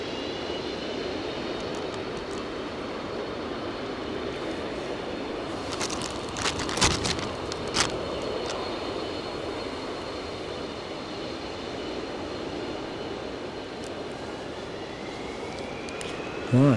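A United airliner departs Edinburgh Airport in gusty storm winds, giving a steady, broad jet roar with a thin high engine whine. A few sharp clicks and thumps cut through midway, and a brief loud bump comes at the very end.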